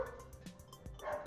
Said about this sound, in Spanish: Sí, hay un perro en la calle, por eso están ladrando.